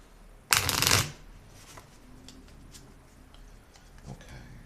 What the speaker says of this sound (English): we're going to shuffle these cards away